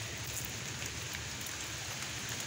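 Steady rain falling outdoors over rural Bangladeshi countryside, a continuous even hiss of drops on surfaces with low rumble beneath, no voices.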